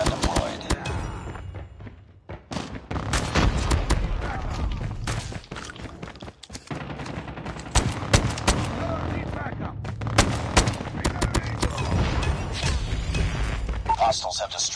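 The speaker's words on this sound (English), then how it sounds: "Friendly sentry gun deployed." Rapid, dense automatic fire from a sentry gun in Call of Duty, sustained and loud throughout, layered with other gunfire, thuds and game announcer voice lines.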